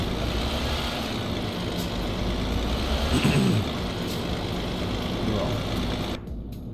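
A truck engine drones outside the cab in Euro Truck Simulator 2, a steady rumbling hum with a brief louder swell midway, under a short spoken word, before dropping off near the end.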